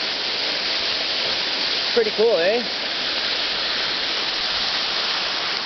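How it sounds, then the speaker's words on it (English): A waterfall pours in a steady, full-band rush that fills the whole span, with a voice speaking briefly over the roar. "I hope you guys like this awesome waterfall I found."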